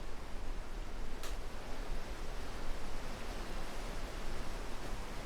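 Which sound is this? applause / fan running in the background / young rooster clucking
fan running in the background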